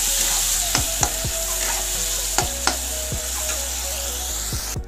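Fish frying in hot oil in a wok, a steady loud sizzle with scattered crackles and pops and occasional scraping stirs, close by and without talk.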